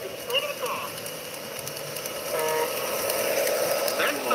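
A model train rumbles along its track with clicking wheels and faint whistle-like tones, getting louder toward the end, while people talk in the background.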